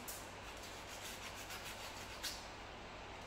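Sandpaper rubbing on the curb-rashed wheel of a 2019 Nissan Maxima SL, a faint, steady scratchy rasp with a brief louder scrape near the end and no talking.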